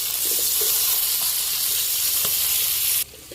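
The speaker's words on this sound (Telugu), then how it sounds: "బాగా కలుపుతాం." Loud, steady sizzling of a hot pan with faint scraping as country chicken curry with yogurt and chilli powder is stirred, cutting off abruptly near the end.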